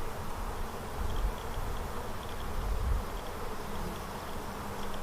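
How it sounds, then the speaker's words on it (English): Steady, dense buzzing of honeybees from an open hive during a frame-by-frame inspection, close and continuous, with no talking. "Keep moving through the hive methodically, one frame at a time, and she'll show up eventually."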